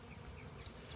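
Honeybees settling into a new hive, a faint, steady buzzing drone with no talk.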